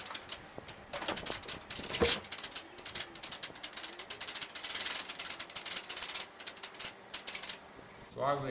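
Kawasaki ER-5 motorcycle starter motor seizing up, giving a dense run of ratcheting mechanical clatter and grinding for several seconds with a brief louder jolt early on, then a sudden drop before a short final burst.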